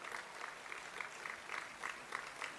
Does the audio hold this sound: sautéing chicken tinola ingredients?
no